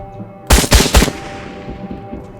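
Video game gunfire in Trans-Siberian Railway Simulator: three sharp, loud shots in quick succession, each ringing out into a short decaying tail.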